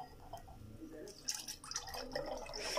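Homemade ghee drips and trickles through a strainer, a soft, uneven patter of liquid over a quiet kitchen background, moderately close.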